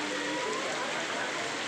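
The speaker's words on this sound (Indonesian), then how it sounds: "Cuaca hujan," Steady rain falling on surfaces at an Islamic boarding school in Tangerang, a dense continuous patter with no talk over it.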